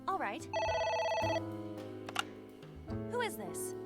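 A telephone rings in a video game, a bright electronic trill in two bursts with a pause between, close and loud, layered over game music and sound effects.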